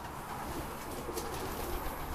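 Homing pigeons cooing on arrival after a 40 km training release, soft steady murmuring calls at close range over a continuous background, with no talking.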